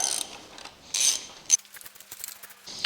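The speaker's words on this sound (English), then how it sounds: "We can start cracking more of these bolts." A ratchet wrench breaks loose 12 mm bolts on a used motor bought secondhand, giving a few short, close metallic clicking bursts separated by quiet pauses.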